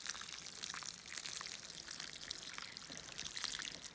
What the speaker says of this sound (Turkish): Sonra tohumlar dibe batmayacak şekilde hafiften sulama yapıyoruz